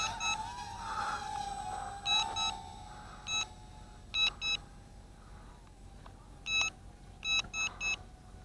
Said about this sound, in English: Okay, I heard 3 beeps that time.